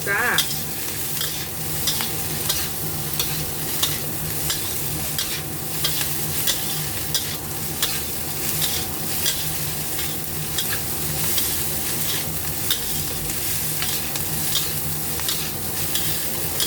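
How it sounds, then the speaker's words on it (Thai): Steady scraping and stirring of fried rice with shrimp and salted egg yolk in a hot wok, with continuous sizzling and rhythmic clanks of a spatula, no talking. "ผัดเลยนะคะ ผัดเลยนะคะ"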